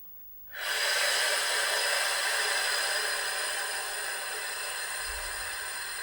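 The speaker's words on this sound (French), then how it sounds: "on expire, à fond, à fond, à fond, et on inspire à fond" A long, steady breath hisses close to the mic for several seconds during a relaxation breathing exercise, a deep exhale or inhale with a strong airy rush that stays even throughout.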